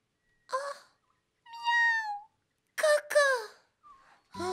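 A cartoon cat meows in separate, drawn-out calls spaced over a few seconds, each clear and close against near silence.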